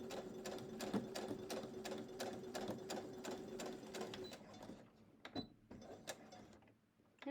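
A sewing machine stitches fabric while a tight arm band on a shirt is being released: rapid, even mechanical clatter for about four seconds, then a few separate slower stitches with brief pauses, close and clear.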